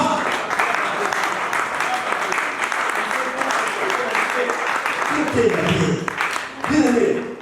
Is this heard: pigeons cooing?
no